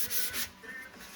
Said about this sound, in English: And if you're sanding by hand